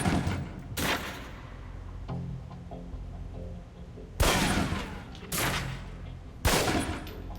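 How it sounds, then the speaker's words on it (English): Pistol shots fired at a target on a firing range in the video game Alpha Protocol: about four loud, sharp reports spaced several seconds apart, each with a brief echoing tail. "Equip the pistol, then aim down range and take some shots at the target"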